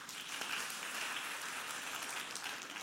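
Brief, soft applause from a church congregation during a sermon, a dense even patter of many hands heard at a distance for a few seconds.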